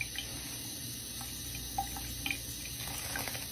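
Water running from a tap into a sink being used as a bath for a pet parrot, a faint steady trickle with a few small splashes and drips, quiet and close.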